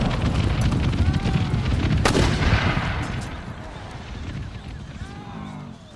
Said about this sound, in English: Camels taking out Western European mortar crews.